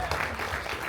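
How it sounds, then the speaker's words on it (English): An audience claps for the cast of The Last Starfighter at a Q&A event, a brief, steady wash of applause from a crowd at moderate distance. "Please give a round of applause."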